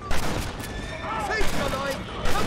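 Enemy gunfire in the Red Dead Redemption game crackles in rapid, overlapping bursts of shots, loud and close, mixed with game voices talking.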